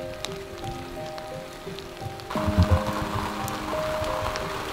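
Heavy rain drums steadily outside a camper van on a rainy morning, a dense close patter that grows louder partway through, with some faint tonal background sounds underneath.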